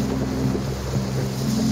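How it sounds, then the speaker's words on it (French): Strong wind roars steadily across a sailboat under way on the St. Lawrence, with a constant low rumble and hiss of buffeting and water noise, close and loud throughout. "le vent se lève de plus en plus"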